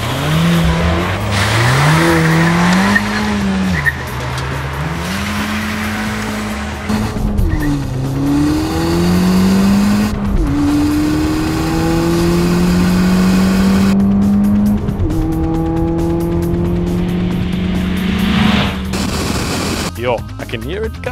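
A Ford Fiesta ST200 and a Renault Clio RS 200 race up a hillclimb course, engines revving hard through the gears with rising and falling pitch, tires squealing, the cars loud and close, while people talk over the noise.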